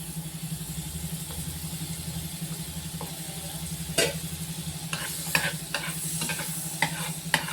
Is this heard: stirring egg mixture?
yes